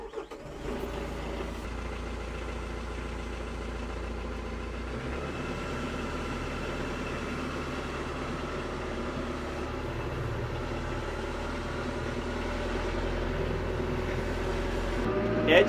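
A tractor engine idles in muddy woodland, a steady low rumble running throughout with a brief rev near the end, while a voice speaks over it.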